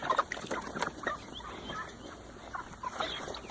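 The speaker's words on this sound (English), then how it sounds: "Here are you silly chickens." Chickens clucking near a duck pond, a quiet scatter of short clucks and calls arriving in irregular bursts, with soft background noise between them.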